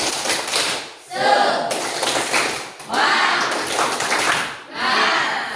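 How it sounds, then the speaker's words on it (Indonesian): A classroom group performs a rhythmic spirit clap in bursts, loud close hand claps in three patterned phrases separated by brief pauses, with little voice. "Nah, kita mulai, tepuk semangat."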